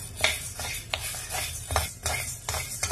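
Urad dal roasting in a pan over a low flame, stirred with a metal spoon that gives repeated scraping clinks at an uneven rhythm, close and moderately loud, with no talking.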